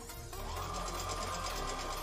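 A sewing machine runs steadily, stitching down the seam of fabric edges lined up together, with a continuous close motor hum and rapid needle chatter and no voices.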